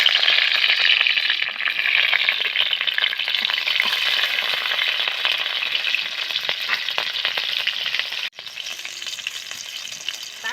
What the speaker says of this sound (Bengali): তেলটা আমার গরম হয়ে গেছে, এর মধ্যে আমি দিলাম কাঁচা লঙ্কা কুচি।